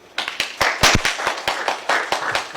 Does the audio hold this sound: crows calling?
no